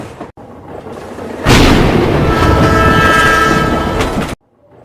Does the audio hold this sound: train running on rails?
yes